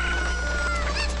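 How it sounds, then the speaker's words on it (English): A cuckoo, the chicken of Zelda: Ocarina of Time in Kakariko Village, gives a short burst of loud clucking over steady game background sound. "Now, this is a cuckoo."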